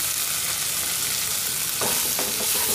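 Vegetables for a sandwich filling frying in a pan, a continuous close sizzle with a few sharper stirring scrapes toward the end, no talking over it.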